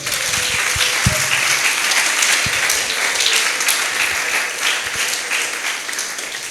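A church congregation breaks into sustained, dense applause that fills the room steadily from start to finish, with a few louder individual claps standing out near the front.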